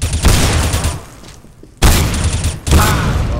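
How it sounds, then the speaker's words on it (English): Shotgun blasts from the video game Counter-Strike, with two heavy booming shots cutting in abruptly, each ringing out with a long noisy tail, and a quieter lull between them. "he wrecked me with a fucking shotgun."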